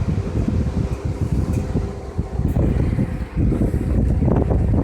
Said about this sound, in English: you can hear them bearings and that fan grinding.